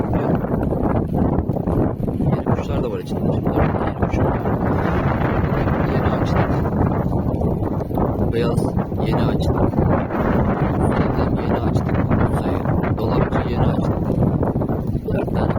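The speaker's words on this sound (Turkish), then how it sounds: "ama rüzgar çok böyle" Strong wind roars and buffets steadily across the microphone outdoors in Istanbul, a loud, constant rushing with gusty rumble throughout.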